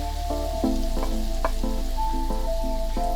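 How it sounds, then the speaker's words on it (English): Curry powder, thyme and Scotch bonnet pepper sizzle in a pan with a close, steady fry, punctuated by light rhythmic clinks and taps from a utensil, with no talking. "We're going to let this cook off for about 2 to 3 minutes."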